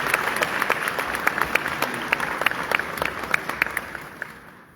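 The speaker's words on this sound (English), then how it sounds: "Please give them another round of applause." A ceremony audience gives a steady round of applause at a military ceremony, a dense wash of many hands clapping at once with sharper individual claps poking through, fading slightly toward the end.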